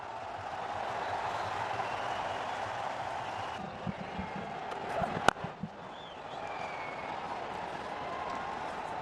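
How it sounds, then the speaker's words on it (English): Crowd in a packed cricket stadium applauding during an India versus Pakistan World Cup match, a broad distant roar of clapping and noise with a brief sharp knock in the middle. "Tremendous applause from him."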